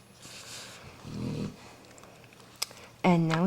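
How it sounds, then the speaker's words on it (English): A pet dog named Scooter gives a short, low rumbling snore in the background, faint and brief, before a person's voice starts speaking near the end. "I apologize if you can hear my dog snoring in the background here."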